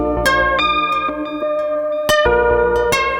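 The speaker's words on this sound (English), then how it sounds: "And now you have your chorus." Sustained synthesizer chords through a Zoia Euroburo chorus effect running in parallel, shimmering and widened, plucked attacks recurring every half second or so, loud and close.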